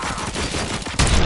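A burst of rapid gunfire from a RoboCop Rogue City game plays on PS5, a dense rattling volley that runs continuously and swells into a louder, heavier crack of shots near the end.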